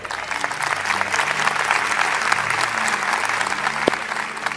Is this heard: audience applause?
yes